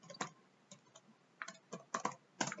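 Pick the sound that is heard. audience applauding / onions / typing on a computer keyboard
typing on a computer keyboard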